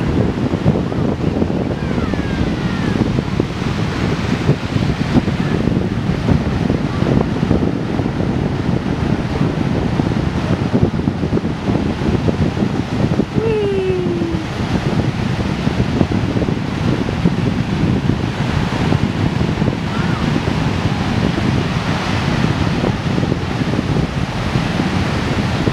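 Wind and Pacific Ocean waves at an empty beach near a pier on a cold, sunny day, forming a steady, loud broadband rush of surf and wind buffeting the microphone for the whole stretch, with no talking.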